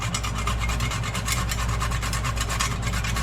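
A whole nutmeg is grated by hand against a rasp in quick, rhythmic strokes, a close, continuous scraping that repeats evenly.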